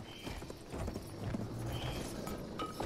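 Horse galloping in Battlefield 1, a quick close run of hoof clip-clops pounding rhythmically throughout with a faint whinny-like tone mixed in.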